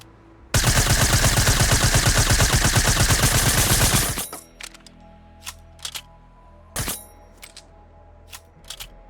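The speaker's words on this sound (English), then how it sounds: "So down to the SMGs, the suppressed submachine gun, incorrect tracers, incorrect reload sound effects, and a near empty mag sound effect is slightly delayed" Suppressed submachine gun in Fortnite fires a loud, rapid continuous burst for about three and a half seconds, then falls silent before a series of sharp mechanical clicks and clacks from the reload.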